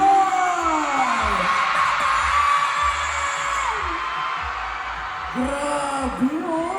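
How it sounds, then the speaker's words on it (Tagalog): A large crowd screaming and cheering for Fyang Smith at a public event, a sustained roaring swell of voices with rising whoops and a thumping beat underneath. "Sobrang lakas ng hiyawan."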